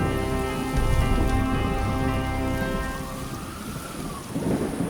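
Heavy rain falls steadily and a deep rumble of thunder rolls underneath it, loud and continuous, with no voices.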